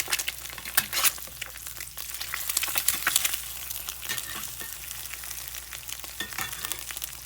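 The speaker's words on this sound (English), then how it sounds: "look at there how pretty you can cook that egg in that iron skillet" An egg fries in an iron skillet, giving a soft, steady sizzle with crisp crackling bursts and a few light scrapes, close by but fairly quiet.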